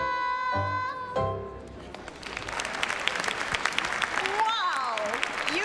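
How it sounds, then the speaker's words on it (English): A crowd at a Christmas telethon breaks into sustained applause after a closing sung note, with a voice speaking over the clapping. "do you hear everybody clapping for you?"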